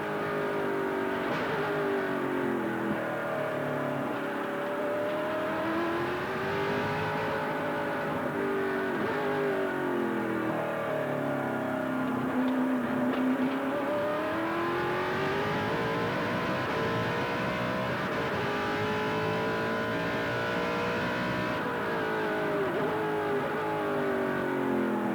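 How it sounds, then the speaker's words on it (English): A GT1 race car with a small block Donovan engine howls past at Manfield, its loud, continuous note rising and falling through gear changes and revs for the whole stretch. "listen to the wonders of a small block Donovan"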